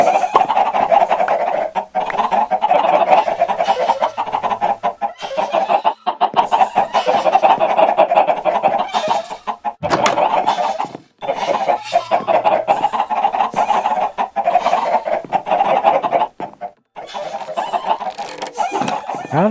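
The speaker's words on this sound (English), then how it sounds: "How did a chicken get loose?" Minecraft chickens clucking in a video game, a near, busy stream of repeated clucks and squawks that runs almost continuously with a few short gaps.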